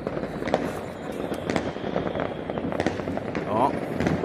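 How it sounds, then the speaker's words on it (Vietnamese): Fireworks burst during a New Year's Eve celebration, with a whole box of fireworks and several racks fired together: dense, continuous crackling and popping with sharp repeated bangs, loud and close, with voices talking underneath. "Pháo lổ rực trời luôn."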